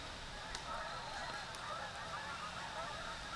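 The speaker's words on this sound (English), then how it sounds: "Got a flock of geese flying pretty close. They're squawking as they fly." A flock of geese flying fairly close overhead honks repeatedly over a steady hiss of background noise, scattered calls at a moderate distance.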